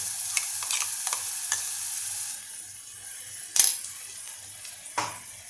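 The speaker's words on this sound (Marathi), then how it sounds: "हे वाटण आपण आता चांगलं पातळून घेणार आहोत" Ground spice paste sautéing in a pressure cooker with bloomed cumin for pav bhaji gives a soft, steady frying hiss, with a few close stirring scrapes and a couple of brighter metallic clinks near the end. No one speaks.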